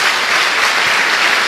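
Dense, loud applause from a church congregation of many people clapping together, sustained throughout.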